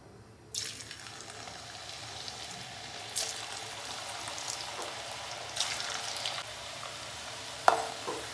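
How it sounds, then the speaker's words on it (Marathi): Potato french fries frying in hot oil in a wok over medium gas, a steady bubbling sizzle that surges sharply as the potatoes drop in, with occasional stirring clatter, and no talking. "गॅस मध्यम ठेवून रंग बदलेपर्यंत तळून घेऊया"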